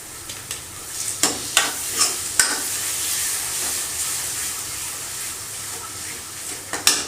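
Ladle stirring curd into a potato-onion curry frying in a pan, steady close sizzle with a series of sharp scraping strokes against the metal, spaced irregularly and picking up again near the end.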